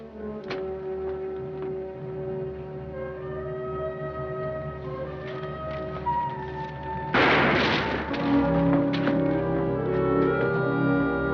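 A single sharp gunshot rings out in a western film, a loud broadband crack that cuts over steady orchestral music partway through.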